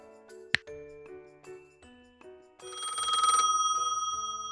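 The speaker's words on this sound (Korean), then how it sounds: "알람이 울려요." A phone alarm rings with electronic chime tones, a brief click, then a louder repeating ringtone pattern that keeps going.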